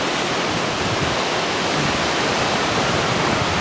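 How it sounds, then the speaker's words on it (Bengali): Rough, surging sea waves on Kuakata beach in Bangladesh make a steady, loud, broadband wash of surf that roars on without a break and with no voices. "সমুদ্রের এই উত্তাল ঢেউগুলো আর এই যে সাউন্ডটা, একদম ন্যাচারাল যে প্রাকৃতিক একটা সাউন্ড সমুদ্রের"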